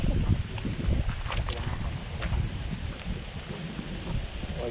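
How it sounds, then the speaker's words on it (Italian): Gusty wind buffets the microphone in low, rumbling bursts, with faint rustling throughout, outdoors at a fishing spot. "C'è il vento che rompe il cazzo."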